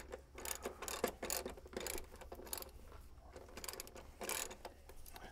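A hand ratchet removes the last strut nut on a BMW 3 Series, giving quick bursts of close, rhythmic clicking in several strokes with short pauses, and no talk over it.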